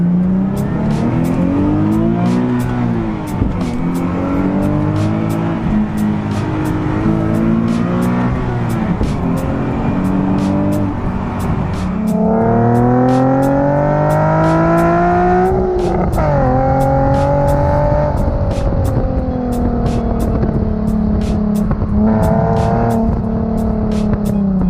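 A Nissan 370Z engine with about 120,000 miles revs up and down repeatedly through gear changes, its exhaust roaring loud and close with rising and falling pitch.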